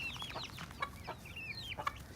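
Hens cluck and squabble close by while fighting over scraps, a busy mix of short clucks and squawks overlapping in quick, irregular bursts.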